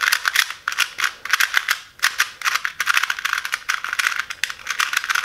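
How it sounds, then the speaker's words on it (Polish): A speed puzzle cube made of stickerless plastic is turned rapidly, giving loud, dense clicking and rattling in quick bursts with brief pauses and no talking. "Strasznie głośna kostka."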